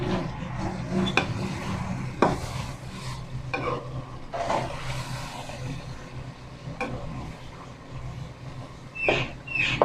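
Kachnar and chicken are stirred in a cooking pot: repeated close scraping strokes of a spoon against the pot over a continuous soft sizzle, with occasional clinks.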